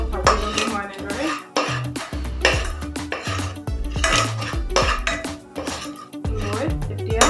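Spice masala for egg biryani sizzles in a pot while a metal utensil stirs, clanks and scrapes against the pan in repeated close knocks, with a voice talking over the cooking.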